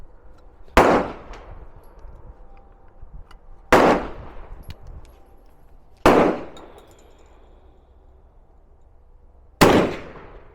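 Four loud, sharp shots ring out at uneven intervals from a 22-410 combination gun, each a sudden crack with a short fading tail, over quiet outdoor background.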